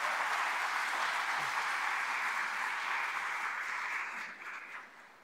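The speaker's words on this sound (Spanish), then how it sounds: "Un aplauso para nuestro presidente Daniel Noboa." An assembly audience applauds Ecuador's president Daniel Noboa during a public accountability session, a broad, steady wash of clapping from many people that holds evenly, then thins and fades out near the end.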